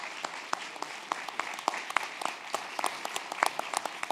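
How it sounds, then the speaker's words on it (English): An audience applauding a policing panel, a scattered, fairly close burst of individual hand claps with distinct sharp smacks, continuing steadily for a few seconds. "I appreciate a round of applause for our panel here."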